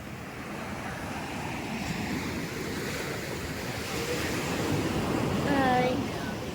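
Ocean waves breaking on the beach at Infanta, Quezon: a continuous loud surf roar mixed with wind buffeting the microphone, swelling slightly toward the end, with a faint voice briefly audible.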